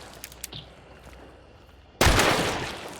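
A gun firing in the game Hunt: Showdown: faint clicks and handling noises, then one sudden loud blast with a long rumbling tail, close and alone.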